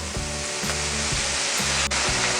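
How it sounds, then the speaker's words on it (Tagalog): Beef frying in a pan for a Visayan beef halang-halang with innards as soy sauce is poured in: a steady, loud sizzle throughout, with regular low rhythmic stirring pulses about once a second. "pwede na natin yung lagyan ng soy sauce or toyo"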